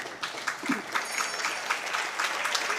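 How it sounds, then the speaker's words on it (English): Spectators at a powerchair hockey match applaud an injured player leaving the floor, a moderate patter of clapping with a few louder bursts, heard alone without speech. "A round of applause here for IPCH Sanchez"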